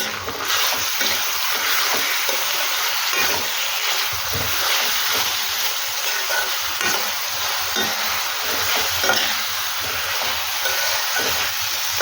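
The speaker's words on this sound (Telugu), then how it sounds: "ఇప్పుడు క్లీన్ చేసి పెట్టేసుకున్న కీమాని యాడ్ చేసేసుకుందాం. మనకి మటన్ షాప్లో కొట్టించేటప్పుడే కీమాకి అని చెప్తే సపరేట్గా కొట్టిస్తారండి. సన్నగా కట్ చేసి ఇస్తారు. బాగా మిక్స్ చేసుకుందాం." Minced mutton keema fries in a pan, giving a steady close sizzle and hiss with repeated scraping and stirring strokes throughout.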